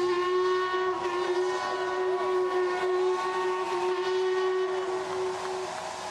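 Prince Elizabeth steam locomotive sounding its whistle from the Chelsea River Bridge on the Thames, a single sustained, steady tonal blast lasting several seconds over a light hiss.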